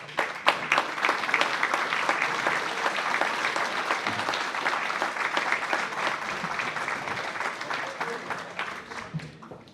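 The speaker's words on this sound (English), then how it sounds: "we can give you a round of applause" Sustained audience applause at a chamber of commerce awards dinner honoring the garden club, a dense steady wash of many hands clapping for nearly ten seconds, tapering slightly at the end.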